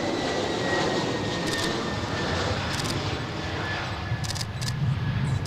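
Fokker airliner at Adelaide Airport, a steady broadband engine roar that holds at near-constant loudness throughout, with a faint high whine running beneath it.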